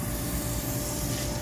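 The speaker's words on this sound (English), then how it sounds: "Actually, I'll just spray it now and let it sit." Wheel cleaner sprayed onto car wheels from a pump foamer, a steady close hiss with low rumbling underneath, continuous and even throughout with no voices.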